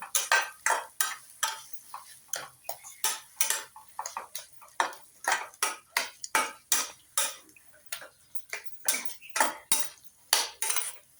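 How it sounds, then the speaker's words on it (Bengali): A utensil stirs salt into mashed brinjal bharta, knocking and scraping against the bowl in a quick, steady rhythm of close, distinct strikes that continue throughout. "নুন দিয়ে এটাকে ভালোভাবে মিশিয়ে নেব"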